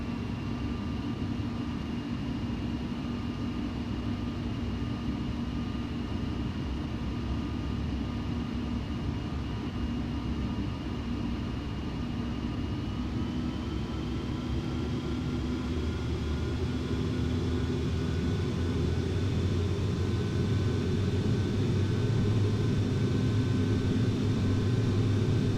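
A simulated airliner spools up for takeoff on a runway in the PC game Secret Shuttle, a steady engine drone and whine slowly rising in pitch and loudness.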